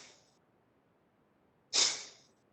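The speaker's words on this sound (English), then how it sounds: "So close your mouth, sneeze with the nose." Forceful nasal exhalations of Kapalbhati yoga breathing, done like a sneeze through the nose with the mouth closed: a faint tail of one at the start, then a single sharp, close burst of air, with quiet between.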